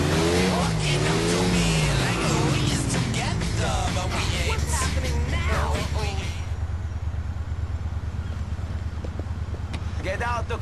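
Inferno sports car in GTA 4 roaring loudly with revving engine and tire squeal, heavy and continuous, then settling into a steadier drone, with voices talking over the first half.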